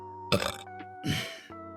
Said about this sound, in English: Oh, I'm going to burp.